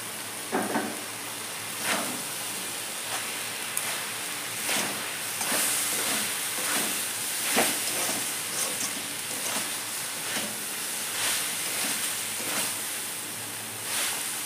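Chow mein noodles fry with sauce in a hot pan for chicken chow mein, giving a continuous close sizzle and hiss with recurring scraping stirs, steady and with no talk.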